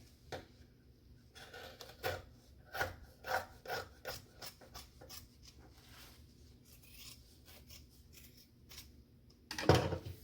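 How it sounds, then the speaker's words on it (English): Scissors trimming the fabric overhang on a sewn Dayna Pack, a run of close, crisp snips and rasping cuts through cloth in irregular bursts, pausing midway before a final louder snip. "I am going to come in and trim my overhang."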